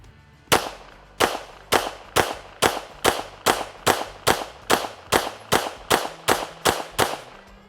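Fourteen evenly spaced shots from the Alien pistol, each a sharp loud crack with a short ringing decay, fired in a steady rhythm about half a second apart.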